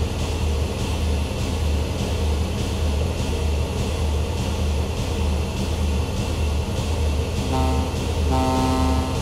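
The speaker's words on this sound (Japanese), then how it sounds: "いいね、汽笛も。" Ship horn in the video game Ship Handling Simulator: a low, steady engine rumble throughout, then two short deep horn blasts near the end, the second slightly longer.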